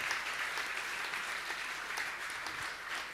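A crowd at a religious gathering claps together, a dense, even wall of applause filling the hall without pause.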